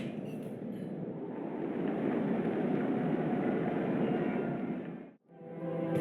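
A rapid transit car travelling in the video game Mass Effect 3 gives a steady, rushing rumble that swells and holds. It cuts to a brief hush near the end, then resumes.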